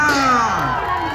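Outdoor crowd at a Tegal community festival shouting and cheering in one loud, brief burst of mixed voices that fades slightly.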